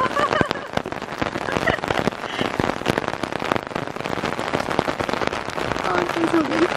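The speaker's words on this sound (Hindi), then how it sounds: "कितनी खूबसूरत है माशाल्लाह बारिश।" Heavy rain pouring down on a rainy day in Sialkot, a dense steady hiss with sharp patters of drops striking nearby surfaces, with faint voices underneath.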